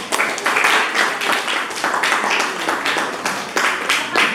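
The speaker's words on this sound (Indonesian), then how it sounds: "Ayo beri aplaus untuk Farhan" A classroom group claps for a student named Farhan, a dense, steady patter of many hands that carries on for several seconds with small surges in loudness.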